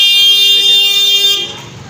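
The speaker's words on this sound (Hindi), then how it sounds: "तो जब ये हॉर्न बजा रहे हैं यहाँ पर टेलर वगैरह भी" A long, loud vehicle horn blares steadily on a road blocked during a wedding procession, then cuts off into quieter traffic noise.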